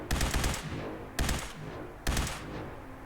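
Rifle gunfire from a modded Hitman Institute rifle in Fallout 4, three loud, sharp shots spaced about a second apart, each with a ringing decay and faint game background between them.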